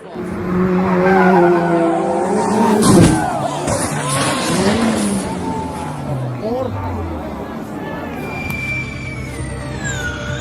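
Formula E race car skidding through a massive puddle, tires squealing and spray hissing with engine whine, loud and close under excited talk and crowd chatter.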